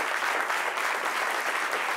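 A studio audience at a French-language talk show claps steadily for two arriving guests, a dense, even wash of applause with no break.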